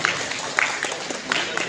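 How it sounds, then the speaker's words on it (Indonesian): Steady, dense applause from an audience at a Persis organisational gathering, broadband clapping sustained throughout with faint voices mixed in. "Tepuk tangan."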